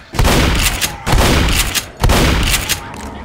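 Heavy gunfire in Left 4 Dead during the No Mercy campaign, three loud sustained bursts of rapid shots about a second apart, close and booming, with short gaps between them.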